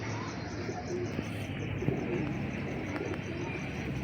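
Pigeons cooing close by, with soft repeated coos over a steady background hum and faint chirps from other birds.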